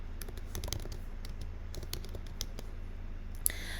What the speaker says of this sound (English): I'm going to type in everyday heels